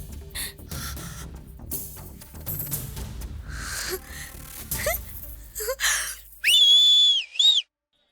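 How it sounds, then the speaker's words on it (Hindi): A whistle is blown loudly near the end in one long, shrill blast that wavers in pitch, after several seconds of mixed background noise and movement at a wedding scene. "किसने बजाई है सीटी?"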